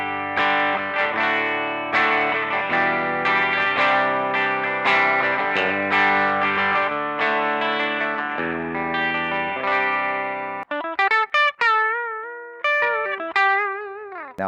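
A Suhr Classic T electric guitar played on its bridge pickup rings out loud and bright through effects, strummed chords with chorus and distortion giving way to quick single-note bends and short picked phrases near the end.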